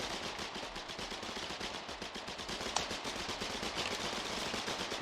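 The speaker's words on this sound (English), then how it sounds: "A lot of SMG fire going on." Steady SMG gunfire rattles on the front line of a Foxhole battle, rapid overlapping bursts forming a continuous distant crackle, with one sharper nearer shot standing out midway.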